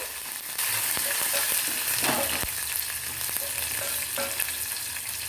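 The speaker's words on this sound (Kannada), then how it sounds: "ಇವೆಲ್ಲ ಎಣ್ಣೆಯಲ್ಲಿ ಒಂದು ಸ್ವಲ್ಪ ಫ್ರೈ ಆಗಬೇಕು." Onions, green chilies and curry leaves frying in oil for a Karnataka-style radish palya, a steady close sizzle with a few light spoon taps against the pan, no talking.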